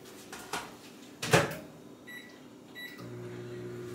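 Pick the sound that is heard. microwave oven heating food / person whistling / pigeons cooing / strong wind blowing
microwave oven heating food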